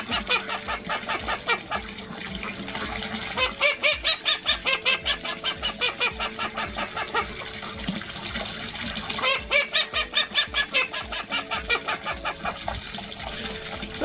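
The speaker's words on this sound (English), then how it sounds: "And 3 call ducks," Three call ducks on a farm quack loudly and insistently, a dense, nasal, rhythmic chorus of rapid calls that continues without a break.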